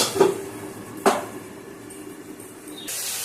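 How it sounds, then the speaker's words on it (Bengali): Two sharp metallic clanks as a lid is set onto a cooking pot of fish curry with ginger, followed by a soft steady hiss of simmering steam. "এবং এটা ঢেকে দেওয়া হচ্ছে।"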